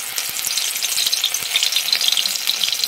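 Greens fritters frying in hot oil in a wok, a loud, dense, continuous crackling sizzle that stays close and even throughout, with no voices.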